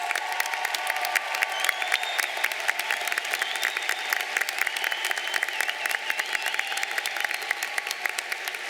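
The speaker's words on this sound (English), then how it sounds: "Please give these students a round of applause" A large commencement crowd at Portland State University applauds Latin honors graduates with steady, dense clapping that stays even and loud throughout, with a few faint cheers mixed in.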